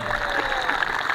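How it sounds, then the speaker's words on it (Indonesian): An audience claps at a peaceful regional election declaration, a short burst of steady applause of moderate loudness, with no voices over it. "Tepuk tangan dong."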